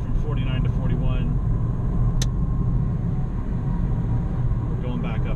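A BMW i3 electric car drives in stop-and-go traffic, giving a steady low road rumble and tyre noise throughout, with a brief sharp sound near the middle.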